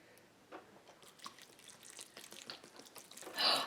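Well water splashes and drips onto plants in a cactus garden, a quiet patter of uneven droplets that builds to a brief louder pour at the end.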